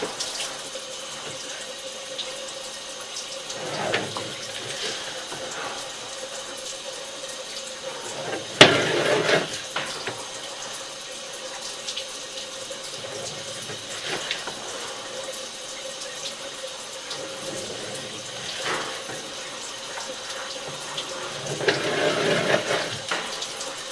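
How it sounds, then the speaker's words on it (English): Water runs steadily through a house drain line during a sewer camera inspection in Cheviot, Ohio, a continuous rushing flow with a few louder surges and clunks along the way. "Should have that water running the entire time"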